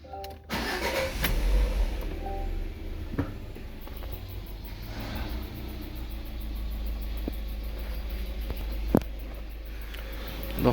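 A Lada Vesta's engine cranks and catches after work on its throttle actuator, then settles into a steady idle. The engine is heard close, with a couple of sharp clicks later and no speech.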